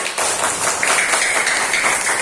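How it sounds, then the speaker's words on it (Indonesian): Classroom applause for a student at an Islamic primary school (MI Darussalam Jetak), with brisk, close clapping lasting about two seconds and a faint voice or whistle-like tone running through it. "Kita beri tepuk tangan untuk Mbak Sela"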